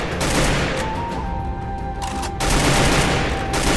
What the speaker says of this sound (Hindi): उसके ऊपर हम फायरिंग शुरू कर देते हैं